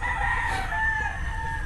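A rooster crows in one long, loud, sustained call with a steady harmonic tone, close to the listener, with a low background rumble underneath.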